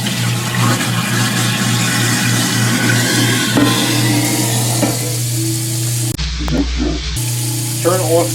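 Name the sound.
washing a pot in the sink with running water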